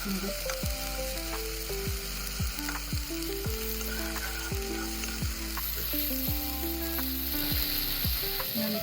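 Cumin, mustard seeds and ginger-garlic paste frying in hot oil for a Marathi vegetable dish, giving a steady, loud sizzle with crackling and occasional stirring clinks, close up and without talking.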